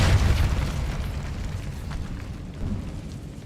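Fiery spell blast from the Incendio charm in the Hogwarts Legacy video game, a loud booming burst at the start that rumbles on and fades through the clip, with a second swell near the end.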